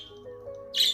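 A bird gives a short, sharp squawk near the end of a brief, otherwise quiet moment, preceded by faint tonal sounds.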